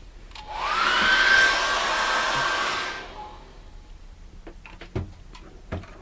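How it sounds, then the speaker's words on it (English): A hair dryer blows steadily for a few seconds at moderate volume drying acrylic paint, then switches off, leaving quiet room noise and a couple of light knocks. "we'll dry that off with a hairdryer"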